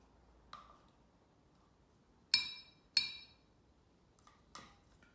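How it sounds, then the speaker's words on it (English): A spoon mixing egg and honey for a dairy-free butternut squash cake batter clinks against the bowl a handful of times, each a bright, short ring spaced irregularly over quiet background. "we're just going to mix them together with the spoon"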